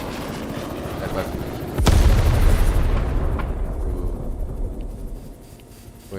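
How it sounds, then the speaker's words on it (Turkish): A loud explosion from the video game Chernobylite bursts out about two seconds in with a heavy low boom, then a long rumbling decay that fades under a steady game background. "Güzel patladı."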